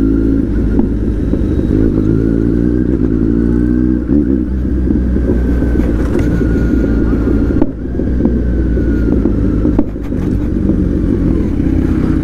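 A Kawasaki Z900 superbike rides along with a steady, loud engine drone and rushing wind across the microphone, the pitch wavering slightly as the throttle shifts, with a brief dip and clatter midway.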